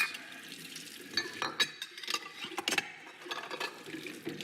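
Tap water runs and splashes irregularly as fresh produce is rinsed at an organic farm in New Zealand, with scattered louder gushes over a steady close trickle.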